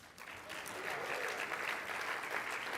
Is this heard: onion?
no